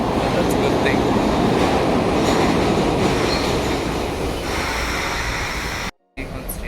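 A SEPTA or PATCO commuter train arriving at a station at peak time, a loud continuous roar of wheels and rail noise that gradually eases off, with a brief dropout near the end.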